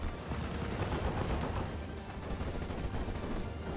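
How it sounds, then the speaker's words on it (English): A mortar half-track's counter barrage in the video game Steel Division 44, heard as a continuous, loud, dense rumble of overlapping blasts and booms with no pause. "the mortar half-track will initiate the counter barrage now"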